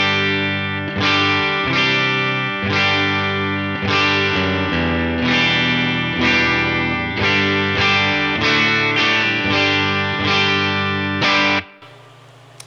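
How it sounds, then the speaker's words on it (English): An electric guitar with a Fender-style clean tone on the edge of breakup, through a Tone King Imperial preamp, 112 cab and HX Stomp, strums a chordal southern-rock riff in steady rhythm before stopping abruptly near the end. "my first tone is a Fender clean tone"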